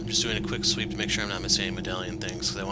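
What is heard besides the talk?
None of the usual background noises is heard.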